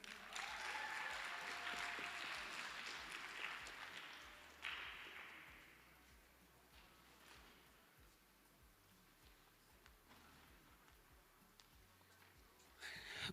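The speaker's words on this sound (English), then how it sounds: "Please give her a round of applause." An audience at an academic competition awards event applauds Dr. Nomasoni Murule, with clapping loudest in the first few seconds and then thinning to scattered, fainter claps, swelling briefly again at the end.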